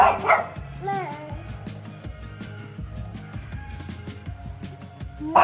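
A dog whimpers and yelps in short rising whines between louder barks at the start and end, while a person speaks nearby.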